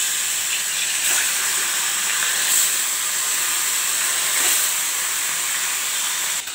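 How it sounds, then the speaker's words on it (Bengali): Bhola fish slipping into hot oil for a mustard bhola curry gives off a loud, steady sizzling hiss that runs unbroken through the whole stretch, with no one talking. "মাছটা দিয়ে দিচ্ছি।"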